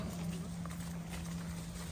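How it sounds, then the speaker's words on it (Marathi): Bullocks' hooves clop steadily as they walk through forest, a rhythmic plodding over a low steady hum, with no talking. "बैलांना नेतात आम्ही आंघोळीला"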